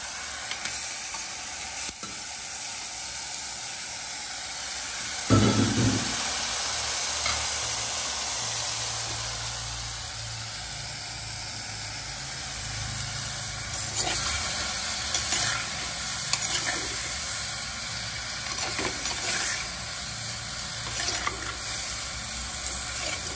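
Prawn curry ingredients sautéing in a clay pot give a continuous close sizzle and hiss, with occasional scraping stirs and a louder burst of frying partway through, no voices.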